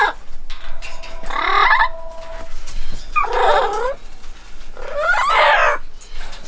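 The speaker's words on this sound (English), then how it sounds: "I think these are Amazon yellowhead parrots." Amazon yellowhead parrots at a wildlife facility let out three loud, harsh squawking calls in separate bursts, close to the microphone, with quiet gaps between them.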